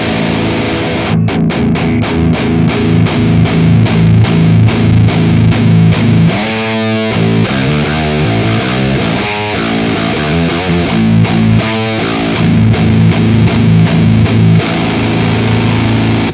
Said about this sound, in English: it kind of goes from distortion into fuzz land